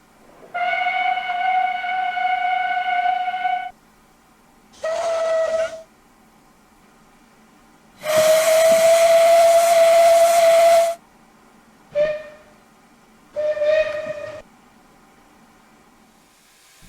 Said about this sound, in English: Thinking back to the whistles, here's a demonstration of the two different types.